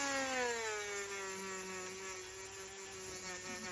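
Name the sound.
rotary sander smoothing a Norton Nemesis V8 cylinder head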